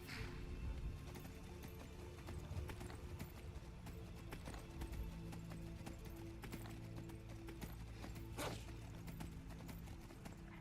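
Horse hooves in Skyrim clop steadily and quietly as the animal moves, with a soft whinny and faint game ambience underneath.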